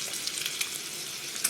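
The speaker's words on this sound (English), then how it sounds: "we're just gonna let that sit here and sizzle a little bit" Hamburger meat sizzling in a pan set on low, a soft, even crackling hiss close by with a few brief pops and no voices.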